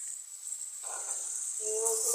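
Small shrimp, seasoned with cumin, turmeric and salt, hit a hot pan and start a faint, thin sizzle that swells slightly as they settle and fry.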